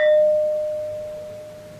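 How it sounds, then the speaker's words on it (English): A struck metal object rings like a bell with one clear, pure tone that sustains and slowly fades over nearly two seconds. It sounds close and is heard alone, with no talk. "this thing really rings like a bell, and it reverberates for quite a long time"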